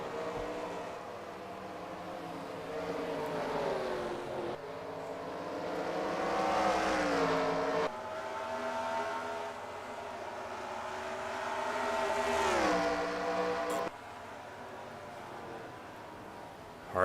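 Race cars at Watkins Glen roar through a continuous 17-second stretch, engine notes climbing and dropping as they brake hard and accelerate through turn 1, several cars audible at once and fairly loud.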